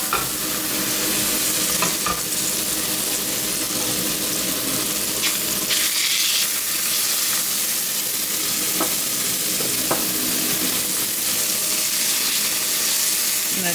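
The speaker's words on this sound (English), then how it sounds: "Hear that sizzle?" Food sizzles and crackles in a hot pan, a constant frying hiss with occasional sharper pops and stirring scrapes.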